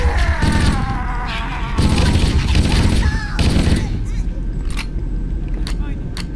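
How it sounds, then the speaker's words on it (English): Bursts of rapid machine gun fire crack out in Halo: Combat Evolved, loud and close, in several volleys with mechanical clatter and a few separate single shots near the end. "I also use this machine gun quite a bit."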